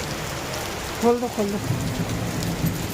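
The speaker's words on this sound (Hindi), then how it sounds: "आवाज आ रही बारिश की, बारिश हो रही है हमारे यहाँ झमाझम झमाझम झमाझम" Heavy rain pours steadily on a surface at an Indian home during a storm, a continuous loud hiss with a few voices talking over it near the middle.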